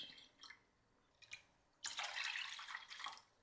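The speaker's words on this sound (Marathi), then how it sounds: "आता यामध्ये घालूया 2 वाट्या पाणी" Water is poured into whisked yogurt in a pot to make buttermilk: a couple of brief splashes, then a steady, close pouring gurgle lasting about a second and a half.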